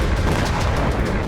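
A Ukrainian drone strike sets off a huge explosion at a Russian explosives and ammunition depot, a loud, dense roar of blast rumble filling the whole moment without pause.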